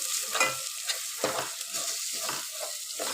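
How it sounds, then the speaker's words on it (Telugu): Onions and onion paste fry in a pan for paneer masala curry, close sizzling broken by quick rhythmic stirring strokes and scrapes, several in a short burst. "ఇప్పుడు ఆనియన్స్ అయితే మంచిగా ఫ్రై అయినాయి చూడండి."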